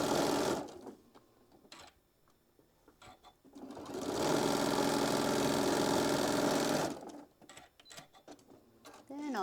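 A sewing machine stitches fabric pieces down in two sustained runs of rapid, steady mechanical whirring, with quieter gaps of handling sounds and short bursts at the start and end.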